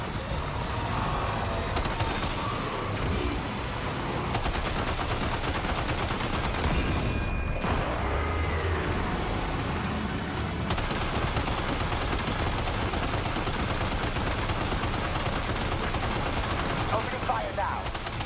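Sustained video-game gunfire from Death Stranding 2, dense bursts of automatic fire and explosions layered over game music and engine rumble, loud and continuous with occasional voices mixed in.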